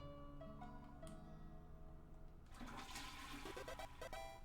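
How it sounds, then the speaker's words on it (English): A toilet flushes in the video game Deltarune, a rushing gurgle of water that swells after a moment and plays over steady background music. "You flushed the toilet."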